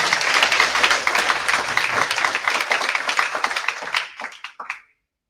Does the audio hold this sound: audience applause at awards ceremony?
yes